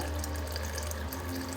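Boiled water from a kettle poured into a pot of British Indian restaurant-style base gravy, a steady close splashing pour running throughout with no talk.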